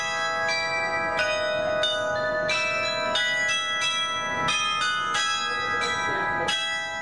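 A peal of church bells rings continuously in Western Australia, a set that includes twelve bells from St Martin in the Fields in London, with strikes overlapping in steady changes and the bells sounding loud and full.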